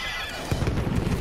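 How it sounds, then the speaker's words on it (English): A horse in a Battlefield video game lets out a short, close whinny, with a burst of low thumping hoof sounds right after. There is no talk over it. "Another horse."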